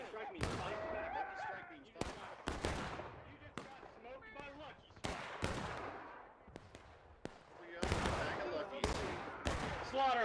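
Rapid volleys of musket gunfire in the Civil War game War of Rights, sharp loud cracks in irregular bursts, some close and some distant, with voices shouting between shots.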